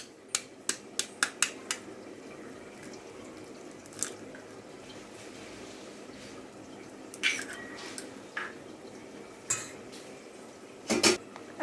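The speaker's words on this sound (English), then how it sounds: "Now beat an egg into the mixture" An egg is beaten into a flour and cornflour batter in a bowl, a quick run of sharp clinks from utensil on dish, then scattered taps and scrapes against a quiet background, no talk.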